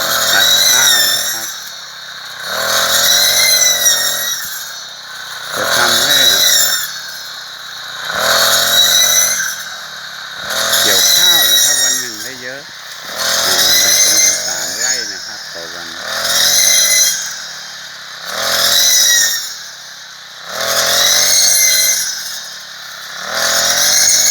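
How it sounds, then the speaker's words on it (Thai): A brush cutter engine cutting rice in a harvest revs in repeated bursts, roughly every three seconds, whining high and loud with brief drops between cuts. "เาใช้เครื่องตัดหญ้ามา ช่วย ในการเก็บเกี่ยว"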